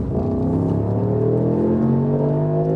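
Mercedes-AMG SL 63 accelerating hard from 40 to 70 mph with the roof closed, heard from inside as a deep, steadily rising engine drone climbing in pitch through the run, loud and continuous.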